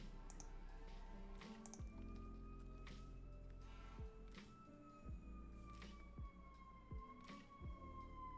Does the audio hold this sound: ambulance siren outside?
yes